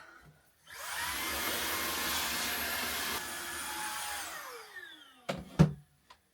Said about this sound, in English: Hoover.